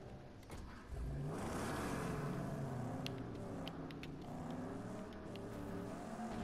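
A car engine in the Mad Max video game revs and strains, its pitch rising and wavering as it accelerates, loud and near with no talk.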